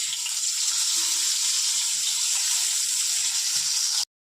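Eggplant slices frying in hot oil in a wok, a bright, steady hissing sizzle held close and even for about four seconds, then cutting off abruptly.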